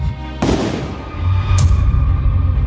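Two sharp, loud blasts about a second apart, each followed by a booming rumble that lingers underneath.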